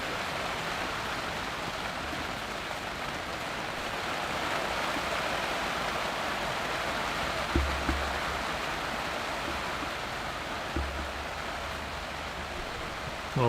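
Steady rain hisses down over an outdoor croquet lawn during a tournament, a continuous even wash of drops with a few soft low thumps near the middle and end, no voices.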